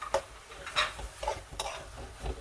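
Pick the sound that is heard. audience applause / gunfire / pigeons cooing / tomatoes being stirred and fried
tomatoes being stirred and fried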